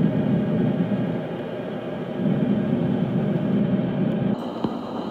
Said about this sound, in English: So next here is a commercial jet. We can hear the strobes and the light reflecting off the wings.